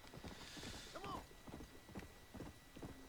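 Horse hooves clip-clop at a slow, careful pace as a rider eases down a slope in Red Dead Redemption: Undead Nightmare, rhythmic soft thuds with a brief whinny-like tone partway through, quiet overall.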